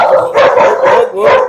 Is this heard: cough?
no